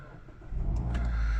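A Mazda CX-3 2.0 Skyactiv-G petrol engine with a 6-speed manual fires up by push button: a quiet cabin gives way to a sudden low rumble that settles into a steady, close idle.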